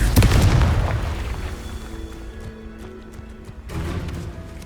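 A loud booming blast from the Confringo fire spell in the game Hogwarts Legacy, erupting at the start and rumbling down over a couple of seconds, followed by a second softer burst.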